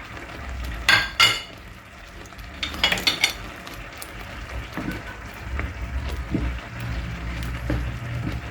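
Shrimp dropped into a pan of onion and ground calamari, a couple of sharp clattering impacts followed by soft stirring and quiet sizzling, close and moderately faint, with no talking.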